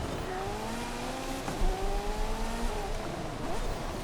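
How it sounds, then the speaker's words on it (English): In Forza Horizon 5, a race car drifts on a wet road in a Euro Cross event, its engine pitch rising and falling as the tires squeal through the slide. "Drifting in the wet."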